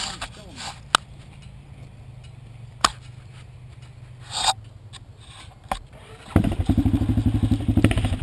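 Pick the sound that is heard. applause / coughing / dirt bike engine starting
dirt bike engine starting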